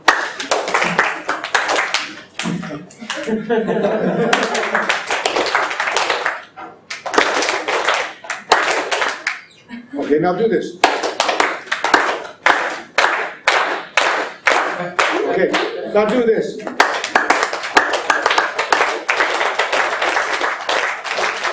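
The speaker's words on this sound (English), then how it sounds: "I want you to clap your hands with me, right?" An audience claps hands together in a steady rhythm, with sharp, evenly spaced claps, while a voice speaks over the clapping at times.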